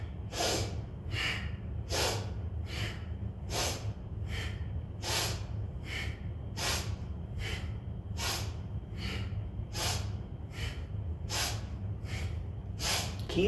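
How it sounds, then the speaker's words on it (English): Fast, forceful nasal exhales from a yoga breathing exercise, about fourteen sharp bursts in a steady, even rhythm over a low constant room hum, close and clear with no talking. "And it's a fast exhale"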